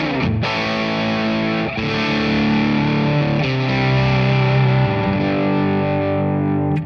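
Electric guitar played through a captured Suhr Bella amp with the boost engaged, a loud, thick, distorted tone ringing out sustained chords with a few changes, no talking over it.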